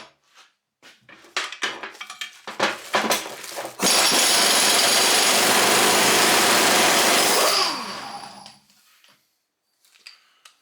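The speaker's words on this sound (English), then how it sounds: "impact wrench does great on that usually" An impact wrench spins a nut off a Timberjack 360 steering cylinder held in a vise: a few scattered metallic clanks, then a loud, sustained hammering burst lasting about four seconds before it winds down, close by with no talking.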